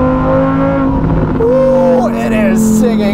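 Novitec-tuned Lamborghini Huracan EVO engine revving to about 6,000 rpm in sport mode, a loud rising wail heard from inside the car with someone talking over it.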